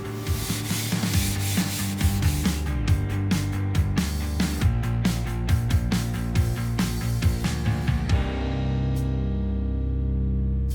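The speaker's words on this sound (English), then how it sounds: "it's a good idea to come back with some Scotch-Brite, scuff it up" Scotch-Brite pad scuffing a part of a Cadillac 365 engine, a close, rhythmic rubbing with quick repeated strokes for about eight seconds, then a steadier low hum as the scrubbing stops.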